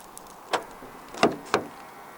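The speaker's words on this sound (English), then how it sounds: "To lock the car, press the indented area on the driver's side door handle." A 2025 Jetour VT9 1.5 Turbo being locked via the keyless driver's door handle, giving three short, sharp mechanical clicks and thunks, close and fairly quiet, with no talk.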